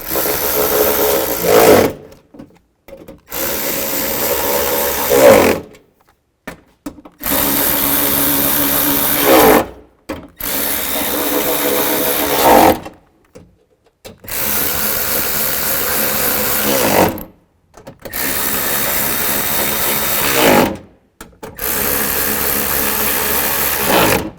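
A power tool runs in repeated bursts of a few seconds each, separated by short pauses, while bolts are tightened on a 2005-15 Nissan Xterra window regulator; the whirring is close and fairly loud.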